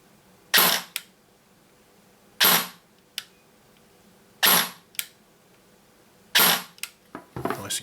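A DYTAC SLR AK105 airsoft AEG fires in short bursts, four loud, close, crisp rattling strings of shots separated by pauses of about two seconds, each followed by a faint click.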